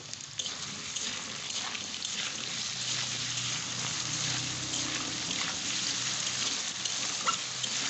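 Potatoes sizzle in hot oil in a pan for aloo posto as they are stirred, with a continuous hissing crackle and faint scraping. The sound is close and steady, with no talking.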